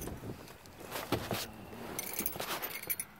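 Honda CR-V key fob handled in hand, close-up light metallic jangling and rustling clicks in short irregular bursts over a faint background.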